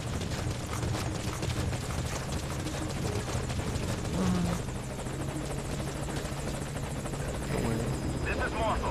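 A helicopter arrives in Metal Gear Solid V: Ground Zeroes, its steady rotor thrum and engine whine filling the scene at close range, continuous and loud throughout, with faint voice-like sounds mixed underneath.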